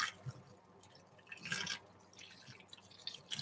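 Vegetables such as carrots being rinsed under running water, with soft splashing and dripping in irregular bursts, fairly quiet and close, with no talking.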